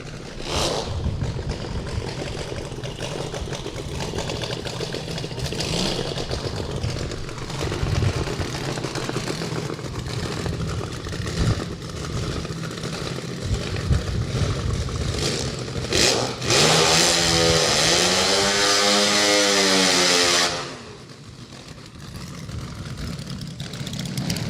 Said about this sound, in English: That very noisy twin-engine Honda.